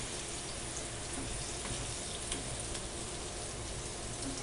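Pork chops fry in a pan for a chile morita dish, making a constant, even sizzle and crackle that runs faint and steady throughout, with no voices.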